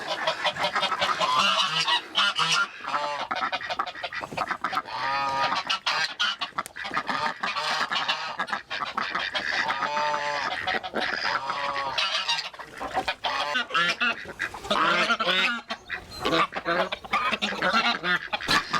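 A loud, continuous chorus of geese honking over and over on a farm, a dense flock close by with overlapping calls throughout as their pen door is opened.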